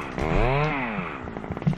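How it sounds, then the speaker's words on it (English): A Chewbacca-style Wookiee roar blended with a chainsaw, a single loud, rising and falling growl lasting under two seconds, ending in rough sputtering bursts. "We are the one and only home of the Chewbacca chainsaws."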